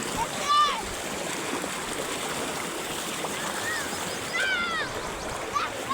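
A foot being washed in outdoor water, with continuous splashing and rushing water and a few bright chirping calls over it.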